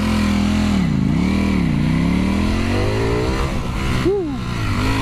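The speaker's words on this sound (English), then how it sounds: "I just gave it, I'd say 3/4 throttle. Gave it the beans a little bit, and she came up lickety split." A Ducati Panigale V4 motorcycle in race mode with wheelie control off pulls hard at about three-quarter throttle, its engine note dipping then climbing steadily, loud and close, with a brief shift-like blip near the end.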